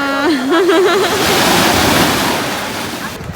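Heavy surf roars continuously while a voice briefly speaks in Filipino at the start, the crashing water dominating and slowly easing toward the end.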